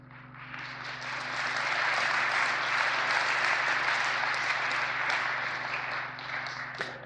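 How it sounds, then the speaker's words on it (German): A church audience in Berlin applauds a sermon, a full round of clapping that swells in over the first second, holds steady and thick, then tapers slightly near the end, with a low steady hum underneath. "Es ist nett, dass ihr alles so klatscht."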